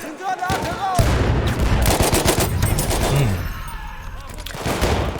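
Sustained bursts of light machine gun fire in Battlefield 1, loud and close, rattling continuously for several seconds with booming impacts and a voice talking over parts of it.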